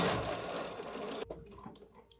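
Sewing machine runs a rapid, steady stitch through fabric for a small patriotic mini pillow, then stops abruptly partway through, leaving a few quiet clicks and handling sounds as the needle sits down for a pivot at the corner.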